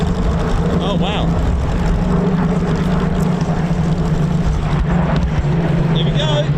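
Rolls-Royce Merlin piston aircraft engines at the Old Buckenham Airshow give a loud, steady, throaty drone that never lets up, with a crowd and an announcer talking over it.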